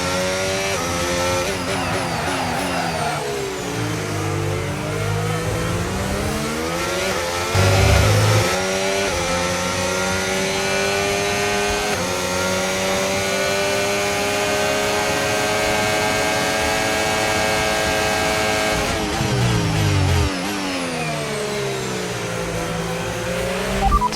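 Formula car engine in a racing video game, revving loudly and continuously through rising and falling gear shifts, with brief drops between shifts and no talking.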